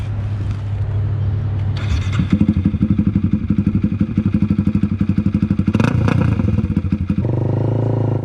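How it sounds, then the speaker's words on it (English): Honda Rebel 300 motorcycle pulling onto a highway, its engine loud and close with a rhythmic pulsing drone that rises as it accelerates through gear changes, with wind rumble underneath. "This is just a quick video of me pulling onto the highway, getting up to top speed, and then taking an exit"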